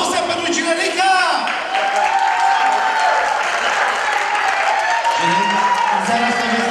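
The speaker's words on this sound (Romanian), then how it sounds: "Aplauze pentru Ginerica!" Audience applause for the groom at a wedding party, a steady wash of clapping and crowd noise with voices talking and shouting over it.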